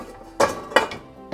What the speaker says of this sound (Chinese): 直接把这些餐具放到洗碗机里面